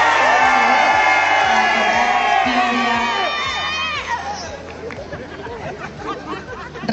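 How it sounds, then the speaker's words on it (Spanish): A crowd cheering, whooping and applauding at a university olympiad event, loud shouts and excited voices over rhythmic music, the cheering gradually giving way to clapping and chatter. "Un aplauso."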